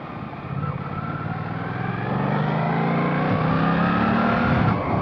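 A Suzuki GSX-8S middleweight motorcycle ridden on the road, its engine droning steadily and close up as the revs slowly climb through a gear, with wind rush underneath.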